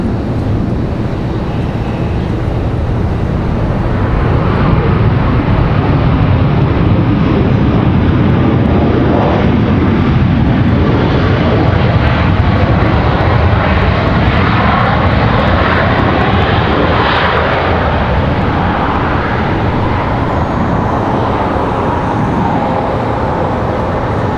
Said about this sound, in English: Speaking of Alaska Airlines, here we go, finally. This one coming in from Seattle.